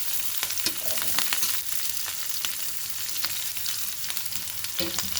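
Onion and green chillies sizzling in a pan for a spring onion and black-eyed pea curry, a dense steady hiss of frying with a few light spoon taps, close and without speech.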